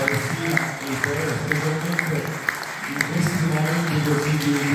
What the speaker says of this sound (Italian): Un bel applauso per la Palestina e Israele